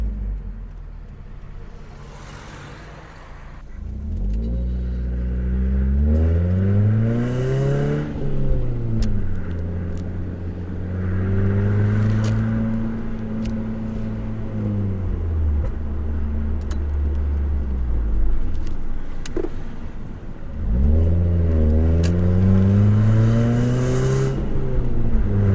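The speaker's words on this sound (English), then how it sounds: "Trying all the gears, make sure they're alright" A 1999 Toyota Altezza RS200 Z Edition with a 2.0L engine and six-speed manual accelerates hard through the gears. Its engine note climbs and drops at each shift, loud and close from inside the car, with no voices.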